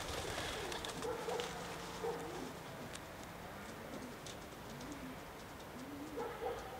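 Soft, low pigeon coos repeat every second or so, steady against a constant background hum.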